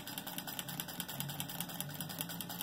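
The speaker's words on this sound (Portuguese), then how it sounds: "é só colocar na máquina, certo? Deixa eu regular aqui. E costurar em cima do risco" A sewing machine stitching felt for a Christmas angel ornament along a marked line, a steady, fast mechanical rattle of the needle running continuously at close range with no talking.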